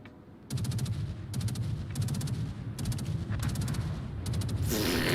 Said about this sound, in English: The Maxim machine guns on top of the turrets.